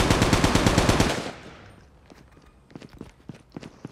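Pistol gunfire in Call of Duty: a rapid string of loud, evenly spaced shots for about a second, then quieter scattered clicks and footstep-like taps.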